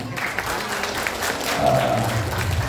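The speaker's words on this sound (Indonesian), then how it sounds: "Boleh kita aplaus buat Bu Haji." Audience applause fills a parenting seminar hall, a steady wash of many hands clapping throughout, swelling slightly toward the end.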